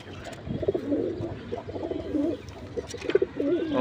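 Pigeons kept for sale coo in a repeated soft rolling pattern, close and clear, with faint background noise and no speech.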